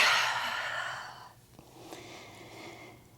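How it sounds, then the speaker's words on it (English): A big breathy exhale during a yoga forward fold, loud and close at first, fading over about a second and a half into quiet room tone. "Biggest exhale yet, forward fold."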